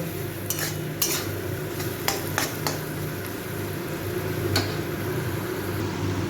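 Grated coconut mixed with turmeric being stirred and fried in a pan for a mochar ghonto, with sharp clinks and scrapes of a spatula against the pan over a soft low sizzle, no talk.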